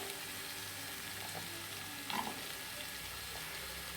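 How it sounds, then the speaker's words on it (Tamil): Tomatoes sauté in hot oil in a pan for a protein-rich gravy, giving a quiet, continuous sizzle with a few brief stirring scrapes and no talk. "தக்காளி கூடவே சேர்த்து நல்லா வதக்கிக்கலாம். அதுலேயே எண்ணெயிலே நல்லா வெந்துடும்."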